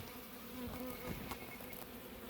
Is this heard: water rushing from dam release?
no